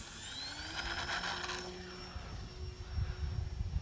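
Electric motor of an Arrows RC Trekker model plane, a modified beginner trainer, whining steadily with rising pitch as it spools up, then settling into a buzzing drone against outdoor wind noise.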